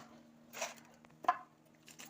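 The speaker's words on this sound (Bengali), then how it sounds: "মাংসগুলো সব কেটে নেবো এবার" A knife cuts chicken pieces for chicken kosha, giving two or three soft, close chopping thuds with a sharper knock near the middle, spaced apart over a quiet kitchen background.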